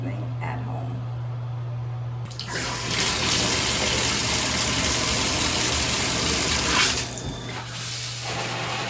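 Water runs from a home shower in a steady, loud, hissing rush that starts abruptly after a low hum and continues throughout with a slight dip in tone near the end.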